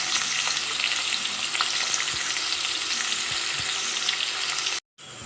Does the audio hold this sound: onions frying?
yes